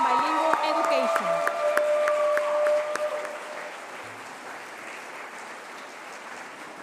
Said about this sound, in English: please give a round of applause to the graduates